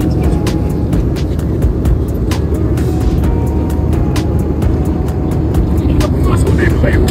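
Steady, loud cabin drone inside an airplane in flight on a first passenger trip, with turbulence shaking the aircraft, a continuous low rumble filling the whole stretch with faint scattered clicks and knocks.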